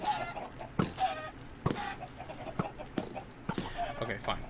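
Minecraft Pixelmon chickens cluck repeatedly, in several quick squawking bursts spread irregularly over a few seconds, close and prominent against a quiet game background.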